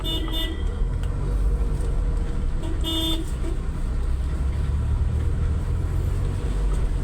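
Vehicle horns toot in busy traffic where buses and an auto-rickshaw share the road: short honks near the start and a clear blast around the middle, over a steady, loud rumble of engines and road noise.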